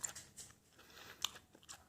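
Gum being chewed close up, with soft wet smacking and crunchy bites repeating in a quick irregular rhythm for about two seconds, quiet and with no talking.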